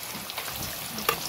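Chicken sizzles and spits in hot annatto oil, a steady close frying crackle with a few sharp pops and light stirring, no voices.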